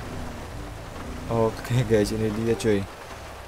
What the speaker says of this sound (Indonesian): Waduh, ini hujan parah, guys, hujan gede ini.